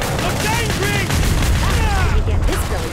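Rapid gunfire blasts at a zombie in a frantic video game zombie shooter, dense continuous volleys with booming impacts and a voice talking over the shooting.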